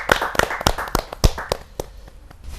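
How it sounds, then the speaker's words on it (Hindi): Audience clapping at a kavi sammelan to welcome a humorous poet, scattered uneven claps that thin out and fade, no voices over them. "हम जोरदार ताली का स्वागत करते हैं"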